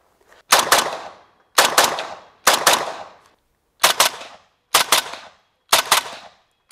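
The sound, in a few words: rifle shots with stock muzzle brake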